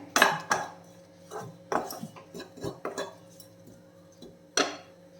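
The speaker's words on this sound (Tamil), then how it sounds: "தேங்காவை நம்ம வறுத்தெடுத்துடலாம் மீடியம் ஃப்ளேமில் வச்சுக்கோங்க நல்லா சுவக்க வறுத்தெடுத்துட்டா போதும்" Grated coconut is roasted on medium flame for a Kerala-style clove bean theeyal, with a spoon knocking and scraping against the pan in irregular clanks and scuffs, close up with quiet gaps between.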